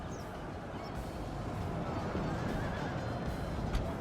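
Horses neigh and whinny on a medieval battlefield in Medieval 2: Total War, a few clear whinnies cutting over a steady, rumbling battle din with faint crowd-like babble beneath.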